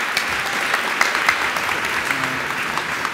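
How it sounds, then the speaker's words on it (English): Audience at a PyCon UK 2019 lightning-talks session gives a short, steady round of applause, dense clapping from a room of people with no voices over it. "Quick round of applause, please."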